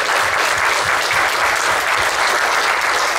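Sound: audience applause at a town hall meeting

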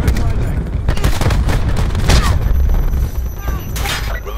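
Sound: cluster grenade explosions in video game Call of Duty Black Ops 4

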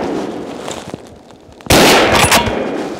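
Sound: gunshot from a hunting rifle during a wild boar hunt

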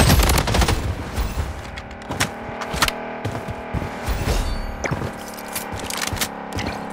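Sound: gunfire from the video game Blood Strike

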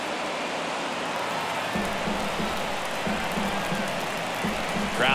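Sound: baseball stadium crowd noise in MLB The Show 23 video game

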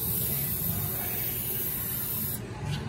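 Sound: spraying penetrant from a spray can

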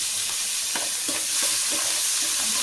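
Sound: onions, green chilies and curry leaves frying in oil

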